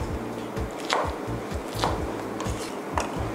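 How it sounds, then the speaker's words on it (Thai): A knife chops pineapple into bite-size pieces on a board, giving a steady series of close, crisp cuts at a regular pace, with no voices over them. "เสร็จแล้วก็หั่นสับปะรดให้เป็นชิ้นพอคำนะคะ"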